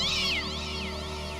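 A black cat gives a strained, rising yowl that fades into a lower, drawn-out growling moan, fairly close and alone with no talk over it.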